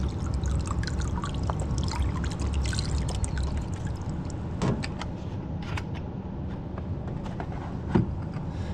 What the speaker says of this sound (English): Let's try adding a little bit more of this cleaning solution.